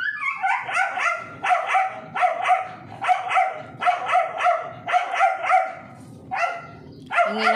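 A dog barks close and loud in a steady rhythmic series of about a dozen sharp yips, with a brief pause before a final bark, and no talk over it.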